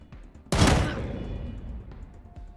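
A single loud gunshot in Wasteland 3, a sharp close blast with a decaying rumbling tail, over quiet game ambience.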